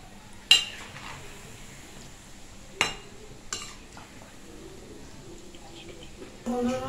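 Fried palm fritters (taler bora) are lifted out of a pan with a few sharp metal clinks and scrapes spaced apart over a quiet background. A voice speaks at the very end.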